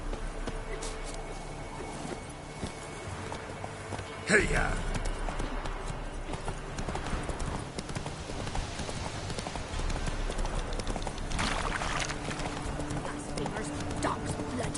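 Horse hooves pounding in a video game horse race, a continuous galloping clatter running under game noise, with a rider's shout and spoken voices over it.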